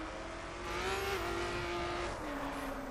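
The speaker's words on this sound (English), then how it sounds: "So yes, I'm driving a Chevrolet Camaro, 20 miles an hour." A Chevrolet Camaro driving in the video game The Crew, its engine holding a steady, moderately loud drone with slight pitch shifts as it cruises along, with no talking.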